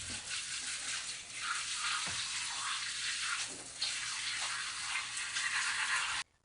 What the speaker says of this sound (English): we are gonna run these under cold water for a few minutes